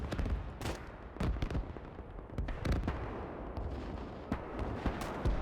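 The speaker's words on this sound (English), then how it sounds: "Another rocket barrage." A rocket artillery barrage in the Gates of Hell war game, with a rapid string of sharp booming blasts and cracks, some near and some distant, fired in irregular bursts over a rumbling battlefield din.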